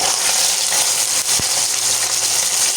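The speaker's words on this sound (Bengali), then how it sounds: "জি তেল গরম হয়ে গেছে, এখন মাছ দিয়ে দিলাম।" Small puti fish dropped into hot oil in a home kitchen: a loud, dense, continuous sizzle and hiss filling the space up close, with a brief low knock partway through.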